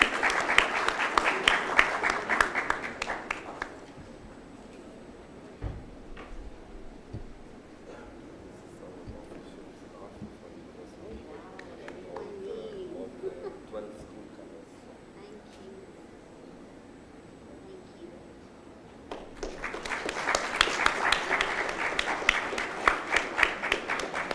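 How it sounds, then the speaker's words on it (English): Students applauding at a university felicitation ceremony, two bursts of loud crowd clapping at the start and end with a quieter stretch of murmur and shuffling between them. "Big round of applause from students"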